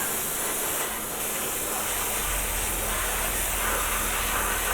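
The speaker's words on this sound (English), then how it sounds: "So just going to give it a good old spray of primer here." Primer is sprayed from an aerosol can onto a vinyl model kit, producing a steady, close hiss that runs unbroken for several seconds with no talking.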